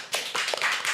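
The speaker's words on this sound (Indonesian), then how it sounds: "Beri aplaus guys." A short burst of audience clapping in a podcast studio, several hands patting together briefly and fairly close for about a second.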